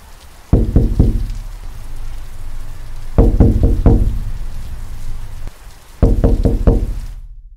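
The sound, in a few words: knocking of a body tapping against lighthouse walls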